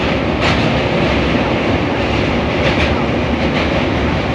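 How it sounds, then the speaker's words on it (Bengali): A train runs along the rails at close range with a steady, loud rumble and a rhythmic clickety-clack of wheels over the track joints, continuous throughout with no voices. "দেখার বিষয় যে টাইমটা কতটা লাগছে পার হতে ট্রেনে করে"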